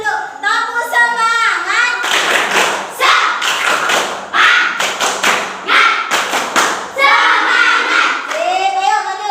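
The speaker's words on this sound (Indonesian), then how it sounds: "Tepuk semangatnya dulu." Children in an Indonesian classroom perform a rhythmic spirit clap, sharp patterned hand claps and thumps mixed with chanting voices, loud and close throughout.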